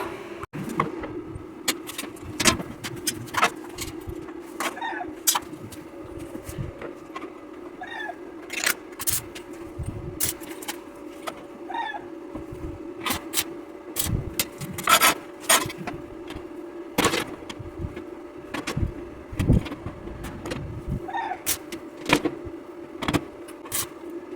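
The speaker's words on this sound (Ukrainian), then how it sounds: "Так, вирізаю задню стінку." Cutting out the back wall of a scrap water boiler gives repeated rasping, scraping strokes in an irregular rhythm over a low steady hum, fairly close throughout.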